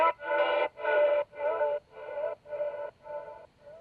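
A lo-fi, desampled vocal sample loop, processed with a movement effect, sidechaining and EQ, plays as a series of short, evenly spaced, filtered, radio-like sung bursts that repeat in a steady chopped rhythm.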